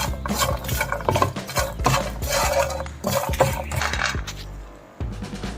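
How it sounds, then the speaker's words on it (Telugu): Roasted lotus seed snack being tossed with masala in a pan, a loud continuous scraping and rattling of spoon through dry seeds, with brief pauses between strokes, close up. "ఇలా కలుపుకోవడమే. కలుపుతూ ఉంటే మొత్తం కలిసిపోద్ది."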